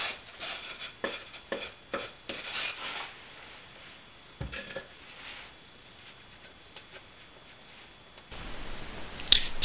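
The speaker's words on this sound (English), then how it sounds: "I rub some sawdust onto the excess glue. That way I can scrape off the excess glue with the sawdust without smearing it all over the place." Sawdust is scraped and rubbed over excess wood glue on a handmade wooden box, giving a series of dry rasping scrapes in uneven bursts, close up, with quieter gaps and a harsher burst near the end.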